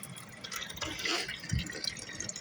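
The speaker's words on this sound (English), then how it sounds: "I'm trying to fill up this cup right now." Tap water runs into a rinsed plastic cup, a faint, uneven splashing and trickling that lasts only a couple of seconds.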